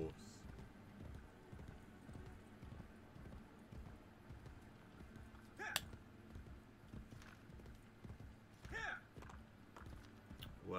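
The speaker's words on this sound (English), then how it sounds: "time to go find a guard on a horse" Horse hooves clip-clop steadily at a walking pace in Assassin's Creed Brotherhood, a continuous rhythmic patter under faint game ambience with occasional brief sharp effects.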